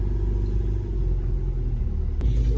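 A car engine idles with a steady low rumble while the vehicle is being parked, continuous and close, with no talking.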